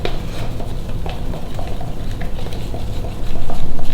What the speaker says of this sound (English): stir until it's a nice mixture without any lumps